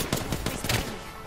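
Several quick gunshots from Apex Legends ring out in a loud, tight burst of four or five cracks, close and harsh, trailing into a short fading tail.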